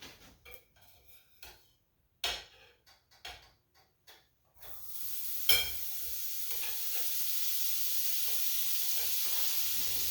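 Butter sizzles in a hot pan as it heats for cooking ground beef: a few scattered stirring scrapes at first, then a loud, steady frying hiss that fills the rest of the clip. No one speaks.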